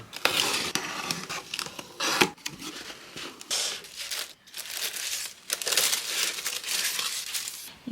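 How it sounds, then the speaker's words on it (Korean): Gift wrapping being torn open for a birthday present at home: a continuous run of loud, close crinkling, crumpling and ripping paper with brief pauses, no voices. "다음 선물을 뜯어볼게요."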